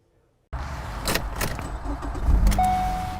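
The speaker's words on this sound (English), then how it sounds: "On most school days, morning traffic looks like this on Glen McConnell Parkway." Morning school-day traffic on Glen McConnell Parkway, with a steady close rumble of passing cars rising in loudness, faint jangling and a brief whine near the end.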